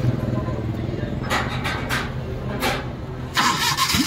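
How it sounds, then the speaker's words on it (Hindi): A Maruti Suzuki Omni CNG van with its silencer removed cranks and catches, a loud raw engine churning up close with bursts of roughness, while someone talks over it. "गाड़ी का साइलेंसर हमने अभी यहाँ पे निकाल दिया है, और गाड़ी को करते हैं स्टार्ट"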